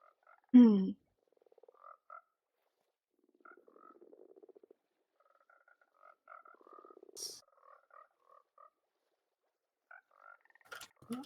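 Frogs croak in Minecraft, a video game: short, soft croaks scattered through the stretch, some single and some in small clusters, with a louder call near the start and a few clicky game sounds in between, all quiet and without speech.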